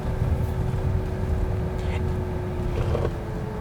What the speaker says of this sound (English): That's the sound of the pedestrian warning system.